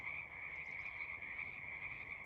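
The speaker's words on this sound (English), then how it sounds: "Not sure if you can hear the frogs." A chorus of frogs croaks on a spring day near a tree farm, a constant high trilling drone heard from a little distance, fairly faint and unbroken, with no voices over it.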